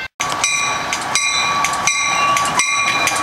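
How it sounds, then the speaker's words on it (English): A Chicago Metra commuter train with a diesel locomotive and double-decker cars approaches from far off, a steady loud rumble with high whining tones and rhythmic wheel clatter continuing throughout. "And here comes the train."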